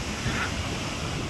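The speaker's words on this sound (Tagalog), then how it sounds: "Malalaki talagang alon yan, eh." Big ocean waves crash and surge near a large boat pushed onto rocks, with a broad steady roar of surf and wind buffeting the microphone.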